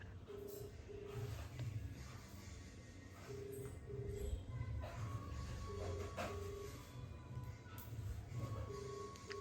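A phone call ringing out: repeated short, paired ringback tones at a steady rhythm, faint under low room noise and light rustling.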